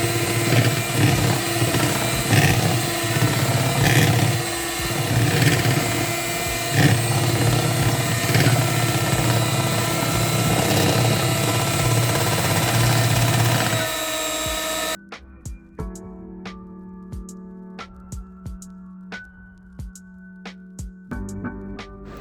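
An electric mixer whips heavy whipping cream until fluffy for banana pudding, a loud, steady motor whir lasting about fifteen seconds. It then stops, leaving quieter scattered clinks and taps.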